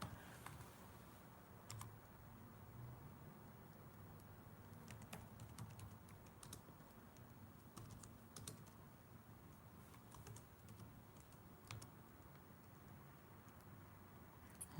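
Rapid keystrokes on a very small computer keyboard patter on and off in quick bursts, close and fairly quiet over a low background hum.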